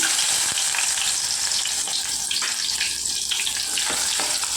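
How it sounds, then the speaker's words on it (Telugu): Onions drop into hot oil for tempering and fry in a loud, dense, continuous sizzle, close up, with light crackles and no voices over it. "చూడండి, నూనె మరిగిందండి. ఉల్లిపాయలు వేసుకుంటున్నానండి."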